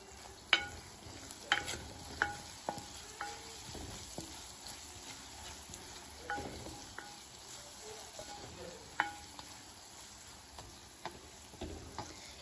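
A spoon stirs and scrapes through sautéing ingredients in a pan for a dried fish curry, with quiet clinks and taps at irregular intervals over a faint, soft sizzle. The cooking stays fairly low in level.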